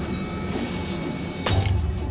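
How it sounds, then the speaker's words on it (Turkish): Emergency glass shatters in the horror game The Baby In Yellow, a sudden bright crash halfway through over a steady game background hum. "Acil durum camını kır."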